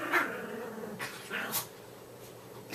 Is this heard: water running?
no